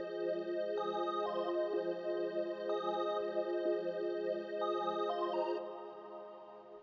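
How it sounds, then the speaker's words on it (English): An additive church organ patch from the Alchemy synth in Logic plays a steady looping pattern of sustained chords with a small shifting upper figure, constant in level and alone, fading slightly at the end. "For the second sound of this beat I used the additive church organ inside of Alchemy, and this is the pattern I laid down."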